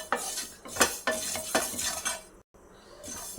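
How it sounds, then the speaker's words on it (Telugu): Cumin seeds dry-roasting in a pan for tomato pickle, stirred with a metal spoon: repeated scraping and clinking strokes against the pan with a faint sizzle, close by and alone. "ఇప్పుడు జీలకర్ర కొంచెం హాఫ్ వేగింది కదండి"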